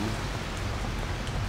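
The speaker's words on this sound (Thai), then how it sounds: "ฝน" Steady rain falls close by, a dense even hiss of drops on a surface with a low rumbling undertone, holding at constant loudness with no voices.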